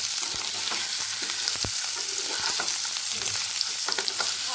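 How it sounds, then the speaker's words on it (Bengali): Potatoes fry in oil, giving a dense, steady sizzle close by, with occasional sharp clicks and scrapes from stirring and no speech. "এবার আমি আলুগুলোকে একটু ভেজে নেব।"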